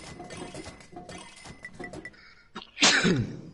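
A sneeze from a character in the South Park video game, a loud burst following quieter game sounds and background voices, with no clear speech in the clip.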